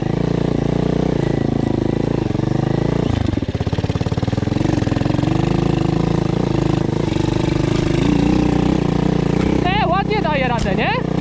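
A Loncin 110/125 enduro motorcycle engine runs steadily and close, its buzzing drone holding throughout with a brief rev change partway, while someone talks over it.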